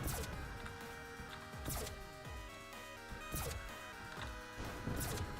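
Grenade explosions in the video game Ratchet & Clank Nefarious, heard as four heavy, crashing blasts at fairly even intervals over a steady, dense game backdrop.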